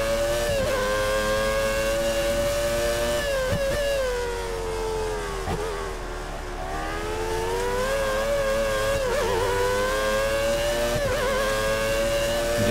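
Formula 1 race cars in the F1 2013 video game, racing in a 1990s-era career mode at the German Grand Prix: a loud, continuous high-revving engine whine that rises and falls with gear shifts, with other cars roaring past in the background.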